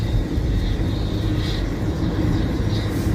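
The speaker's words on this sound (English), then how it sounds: "Sounds like a jet plane though" A steady, broad roar of a jet plane passing overhead, an even rumbling wash that holds at constant loudness throughout with no voices.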